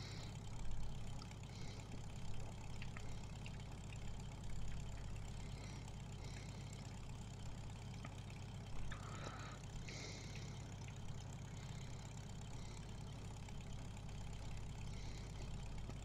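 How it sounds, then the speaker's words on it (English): Tractor engine in the Farming Simulator video game, a steady idling or labouring drone with a low rumble running continuously at moderate level, no talk over it. "Come on, up the mountain you go, you stupid tractor."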